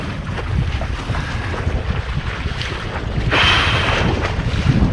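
Steady wind gusting over open water during an attempt to foil, with broadband rushing noise and wave wash throughout, swelling louder near the end, close and continuous with no talk.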